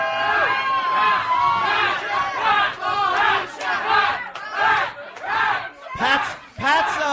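A live crowd at a St. Patrick's Day contest on a radio show roars with cheering and shouting, a dense continuous wall of many voices swelling and dipping in waves, close and loud throughout.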